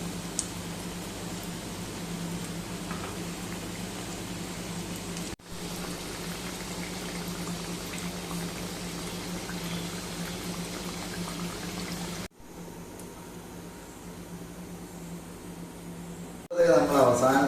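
Jackfruit seed cutlets deep-fry in hot oil in a steady, low bubbling hiss that runs on without pause, broken only by a couple of short cuts.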